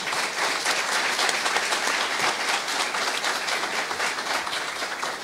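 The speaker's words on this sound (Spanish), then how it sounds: "demos un cálido y entusiasta aplauso" An audience at a university event in Ecuador claps continuously, a dense, steady wash of applause at moderate distance.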